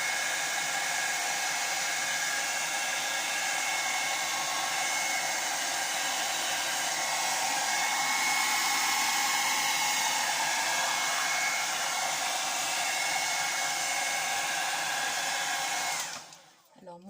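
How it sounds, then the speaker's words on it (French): A hair dryer blows on a silicone acrylic paint pour with a steady, loud, close-up whir that runs unbroken and then cuts off near the end. "avec votre sèche-cheveux, vous lui donnez des formes"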